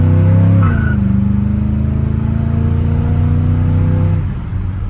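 A restored 1976 Chevrolet Scottsdale C10 pickup accelerates hard, its engine loud and close with a deep, steady drone that shifts pitch early on and holds before easing off near the end.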